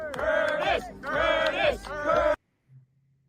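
Crowd of supporters gathered outside a NYC mayoral debate: loud massed chanting and cheering in rhythmic bursts for a couple of seconds, then cutting off abruptly to near silence.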